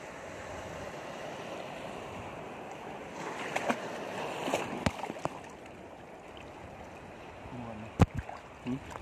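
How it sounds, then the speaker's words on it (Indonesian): Sea waves wash in at a tourist beach where fish nets are set, a continuous rushing surf broken by sharper splashes and knocks, fairly close, with voices now and then. "Wah, ombaknya, ombaknya."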